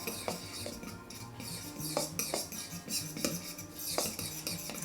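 Pancake batter being mixed in a bowl, with a rhythmic run of whisk or spoon clinks and scrapes against the sides, close and fairly quiet, with no talking.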